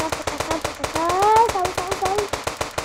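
Rapid bursts of sniper rifle fire ring out in a GTA 5 zombie-mode game, a steady run of sharp repeated shots spread across a few seconds, with someone speaking over the gunfire.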